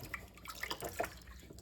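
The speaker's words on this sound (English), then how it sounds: "you just put a little water on them." Water drips and splashes faintly onto splash-and-go knife sharpening stones, with irregular small drops and light trickling close by.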